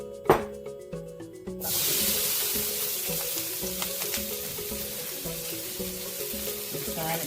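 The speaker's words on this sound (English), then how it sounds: "I'm going to add a little more oil because it's time to fry the rice." Rice fries in hot sesame oil in a pan with a steady, loud sizzle that starts after a brief clatter near the beginning, and faint stirring scrapes run through it.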